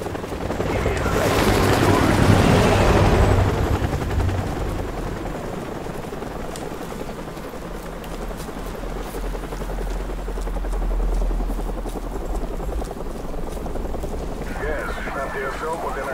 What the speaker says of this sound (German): Feindlicher Helikopter!